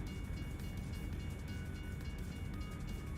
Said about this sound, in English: There's a train, I hear it.